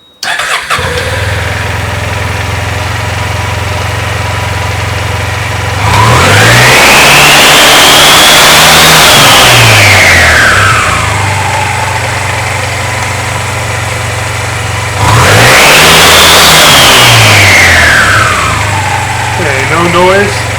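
Honda Silver Wing 600 scooter engine fires up and settles into a steady idle, then revs twice in long rising and falling sweeps with a whining drive note, loud and close, with no talking.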